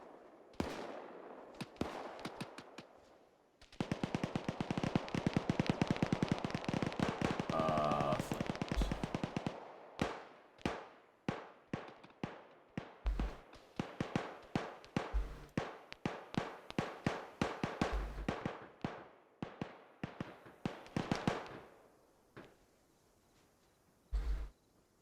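Mortar rounds in Arma 3 go off as a string of sharp, separate bangs, first in a dense rapid volley and then as spaced single and paired shots with brief pauses between them.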